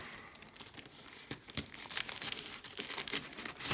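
A cardboard parcel of hand tools with a damaged corner is cut open, faint crinkling and tearing of packaging with scattered sharp rips close by, no talking.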